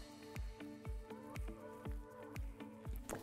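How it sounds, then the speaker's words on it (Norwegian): Milk is stirred into wholemeal scone dough with butter worked in. Soft, wet squelching strokes repeat in a steady rhythm, about two per second, close and quiet. "Og så rører du inn 2 dl melk."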